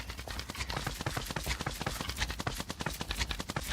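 A chicken jockey mob in Minecraft bounces on slime blocks in a zoo build, giving a dense, steady patter of soft thumping impacts with no talking.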